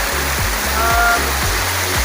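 Steady rushing flow of a river near an underground waterfall, a constant broadband roar with low rhythmic pulses beneath it, close and loud without any speech.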